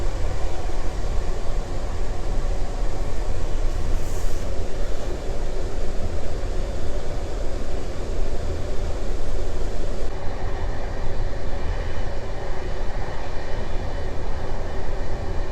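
A steady, loud rumble of a moving train heard from inside the nearly empty last carriage on the Vilnius–Szczecin route, with continuous wheel and track noise and no voices.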